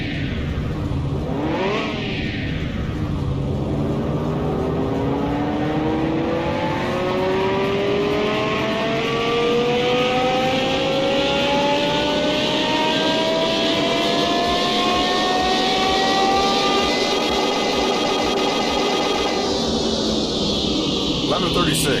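Simulated car engine from Car Mechanic Simulator 2021 being run on a dyno, climbing steadily through a long rising rev sweep and dropping off near the end, with talk over it.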